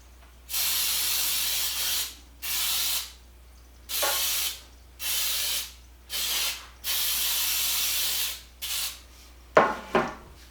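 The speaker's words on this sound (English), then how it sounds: "I'll go ahead and spray my pan" A can of Baker's Joy baking spray sprays a cake pan in repeated hissing bursts of one to two seconds each, close up, followed by a few light clatters of the pan.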